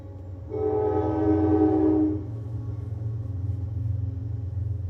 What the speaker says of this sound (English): Haven't had a train in a while.